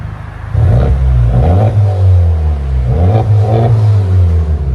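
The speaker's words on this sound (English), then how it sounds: "Honda Civic Type R. 6-speed with a Remark IT system." Exhaust of a six-speed Honda Civic Type R fitted with a Remark exhaust system, revving loudly in two rising bursts of throttle with a steady idle in between, close up and with no talking.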